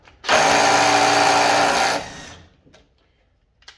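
A Snap-on 3/8-inch mid-torque impact wrench hammers hard for about two seconds, loud and steady, then winds down into a few faint clicks.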